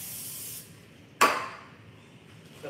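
An oil spray can hisses over naan pizza topped with spinach, artichoke, tomatoes and mozzarella before baking, a soft hiss fading out, then a sharp clack and another brief hiss nearby.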